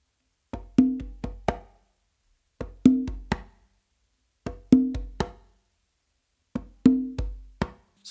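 Conga hand pattern of ghost note, open tone and flat-handed close slap, repeated four times as crisp, close drum strikes with short gaps between phrases and no other sound.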